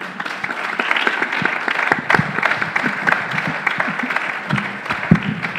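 An audience applauds after a lecture at a decolonial school in Caracas, loud and close, with irregular individual claps and crowd murmur mixed throughout.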